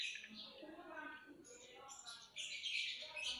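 A canary trills and chirps in bright, rapid bursts, close by, with some quiet talking in the background.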